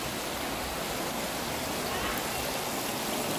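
Strong stream current rushing steadily, a broad continuous wash of flowing water at moderate volume with no break.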